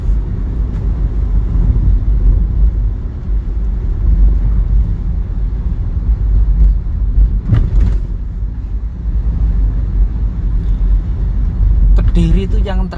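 A car cruising along a smooth, straight road in Kediri in the late afternoon, with a steady low engine and road rumble heard from inside the cabin, a brief louder swell midway and faint voices near the end.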